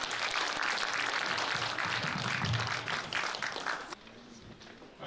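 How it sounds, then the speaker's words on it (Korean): An audience at a reunification-themed community leaders' convention applauds a 33-member choir of elderly singers, with dense sustained clapping that fades out sharply near the end. "33분의 합창단원을 큰 박수로 모시겠습니다"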